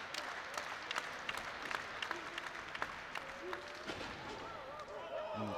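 Crowd at a live BWE wrestling show applauding and cheering, with scattered claps and whoops over steady arena noise, while commentators talk over it.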